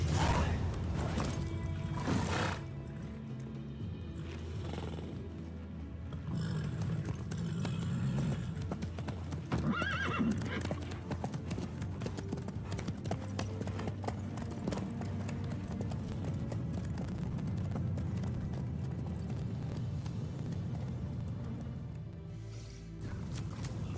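Horse hooves clip-clop steadily in The Witcher video game, a continuous rhythmic trotting under quiet background ambience, with occasional faint movement sounds and no clear talk.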